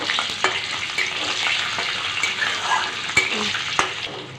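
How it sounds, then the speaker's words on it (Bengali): Cashews, raisins and whole garam masala spices frying in ghee for vegetarian fried rice, a continuous crackling sizzle with a few sharp spatters and light clinks, close and without talk. "কাজু, কিশমিশ আর বাকি গরম মশলাগুলো রেখেছিলাম সেগুলো এই ঘিয়ের মধ্যে দিয়ে দিচ্ছি। হালকা একটু ভেজে নেব।"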